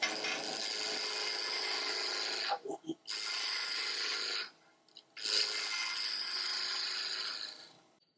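A wood lathe turning at about 1,500 rpm roughs a spindle down to round, giving a loud, sustained scraping rasp that runs in three long passes split by short pauses, close by.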